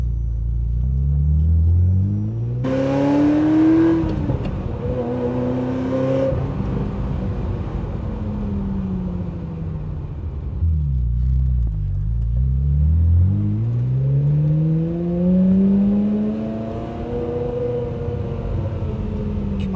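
A new Ferrari engine revs loudly and continuously while driving, with rising and falling pitch sweeps as it accelerates, shifts and slows, a deep rumble running throughout with no talk.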